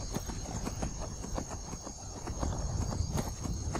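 Horse hooves clatter in the Skyrim video game as a horse runs, a quick steady clip-clop rhythm, close and continuous over a background hum.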